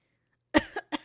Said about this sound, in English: This level of stupid's making me cough.